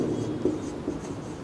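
Pen or pencil writing out a quadratic formula on paper, a close, soft scratching with short rhythmic strokes, steady and unbroken through a brief moment.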